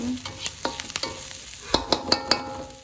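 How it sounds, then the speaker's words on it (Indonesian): Lunch being stirred and fried in a pan, with a faint steady sizzle under a series of sharp utensil scrapes and clinks that grow louder and more frequent toward the end, no talking. "Ini aku masak untuk makan siang."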